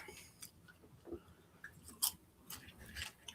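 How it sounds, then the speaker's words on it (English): A person chews food near the microphone, producing a handful of soft, irregular crunches and clicks over quiet background. "Can you hear me chewing?"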